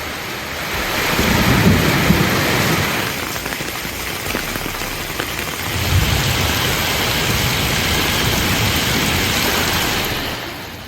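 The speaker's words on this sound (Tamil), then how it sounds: "விழுப்புரம் மாவட்டம் திருவெண்ணெய்நல்லூர் மற்றும் அதன் சுற்று வட்டார பகுதிகளில் கனமழை வெளுத்து வாங்கியது" Heavy rain pours over Thiruvennainallur in Villupuram district, Tamil Nadu, as a dense, loud, continuous hiss with gusty wind noise swelling and easing; no clear thunder stands out.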